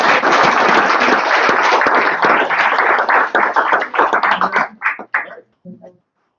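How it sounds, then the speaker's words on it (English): Audience applause at a civic tech hack night, loud and dense at first, then thinning into scattered individual claps before dying out to silence near the end. "So everyone give them a round of applause"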